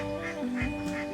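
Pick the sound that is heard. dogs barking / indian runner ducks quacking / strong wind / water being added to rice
indian runner ducks quacking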